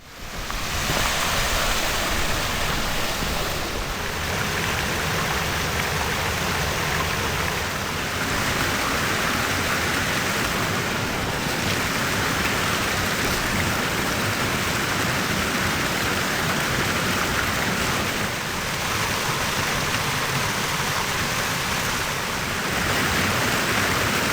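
The wild Rench, a mountain stream in the Black Forest near Bad Peterstal-Griesbach, rushes in a dense, steady roar of churning water, loud and close, with no voices over it.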